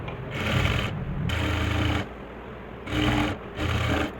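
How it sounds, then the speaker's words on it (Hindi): A sewing machine stitches around the edge of a salwar in bursts, running for about a second at a time with short pauses between. The runs are close and moderately loud, with no talking. "इसको राउंड से ही सिलाई लगा देंगे"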